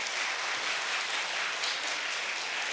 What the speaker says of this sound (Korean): 우리 축복의 박수 해주시기 바랍니다.